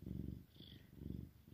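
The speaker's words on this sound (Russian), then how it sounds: "Он мурлычет." A soft, close Oriental cat purr rising and falling in a steady rhythm with each breath.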